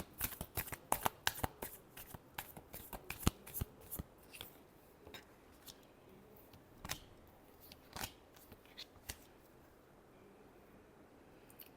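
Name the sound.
tarot cards being shuffled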